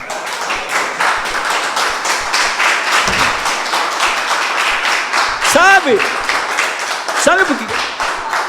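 A church congregation claps steadily at a Vertical Church service, the applause running throughout with raised voices and shouts rising over it near the end.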